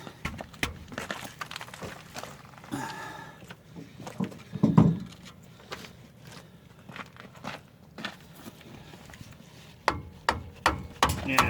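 Hammer blows knock at rusted brake shoes seized in place on an F-350 pickup during a roadside brake repair in the Arizona desert, landing as a few sharp, irregular metallic strikes at close range amid scattered clatter.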